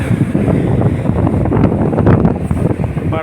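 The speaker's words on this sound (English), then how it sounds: "wind sound." Strong wind buffets the microphone at a harbour berthing side where a tugboat and ship are moving, a loud continuous rumbling roar that gusts unevenly throughout.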